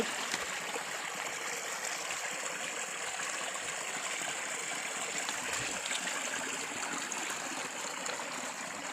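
Steady rushing of Huai Thoep stream in Fak Tha, Uttaradit, Thailand, a continuous broadband wash of water with gentle gurgles, no voices, even and fairly close throughout.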